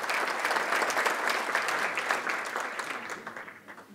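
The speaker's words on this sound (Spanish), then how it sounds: "Demos un aplauso de felicitación a los nuevos doctores en el área de Ciencias" Audience applause at a university doctoral graduation ceremony congratulating new doctors in agricultural sciences, a full, dense round of clapping from a large hall crowd that gradually thins and fades.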